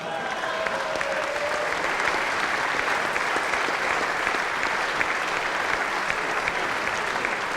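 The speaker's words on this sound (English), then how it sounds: "Just give another round of applause just while I get my breath for Mohamed." Sustained audience applause in a squash arena after an epic 2014 British Open semi-final, a steady wash of many hands clapping at even loudness with faint crowd voices mixed in.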